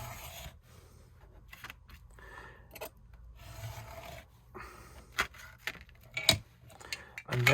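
A cutting knife scores a card border in short, uneven scratchy strokes, close and fairly quiet, with a few sharper clicks and taps toward the end.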